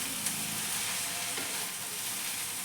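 Okra frying with spices in a pan while being stirred, a steady close sizzle with a couple of brief scraping clinks, alone with no talk.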